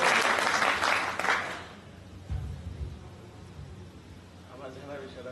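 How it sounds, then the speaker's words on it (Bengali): Audience applause at a Hare Krishna religious talk, a burst of clapping for about two seconds that fades out, followed by quieter room noise. "প্রভুর জন্য একটা জোরে হাত তালি।"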